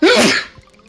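One loud, close sneeze that bursts out at once and fades within half a second into quiet.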